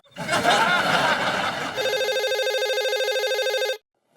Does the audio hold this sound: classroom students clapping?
no